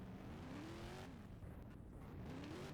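Race cars on a circuit during a team league round at Nelson, engines droning steadily at a distance with rising pitch sweeps as they accelerate, a continuous low rumble throughout.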